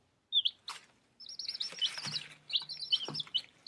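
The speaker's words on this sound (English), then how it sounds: "The bird is singing so sweetly." Birds chirping at a nest with baby birds, high thin tweets and short chirp phrases repeating in quick bursts, close and clear over a quiet background, no speech.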